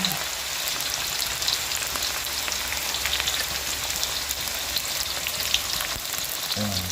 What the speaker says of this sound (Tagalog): Ginisa muna po natin sa mantika